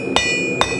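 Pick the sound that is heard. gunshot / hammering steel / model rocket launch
hammering steel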